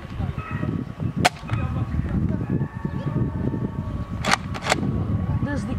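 A Nerf Roughcut toy blaster firing a test shot, a sharp snapping pop followed later by a couple more quick clicks, over a background of voices talking.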